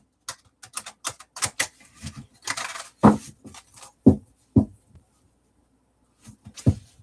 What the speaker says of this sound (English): The deck that gives me such a challenge to shuffle.